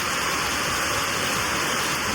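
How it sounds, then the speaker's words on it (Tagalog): Heavy rain pours down in a dense, steady roar, loud and close with no other sounds. "Ayan grabe yung ulan lakas"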